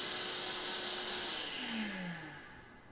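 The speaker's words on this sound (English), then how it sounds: "since the vacuum is enclosed, it's much quieter than before" A shop vacuum runs enclosed inside a mobile miter station cart, giving a steady, muffled whirring hum at low volume with no talking.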